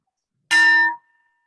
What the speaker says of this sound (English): the bell will indicate the start and the end of this exercise